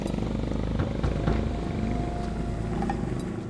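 A motorcycle putters along a canal road beside a village, a steady low engine drone with faint ticking and a thin tonal whine, moderately distant and unbroken.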